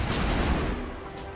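Gunfire from the Mass Effect video game, a dense burst of shots rolling together into a loud, rumbling volley that fades out toward the end, with no talk over it.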